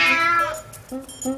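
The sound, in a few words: cat meow imitated by the Gato Madre character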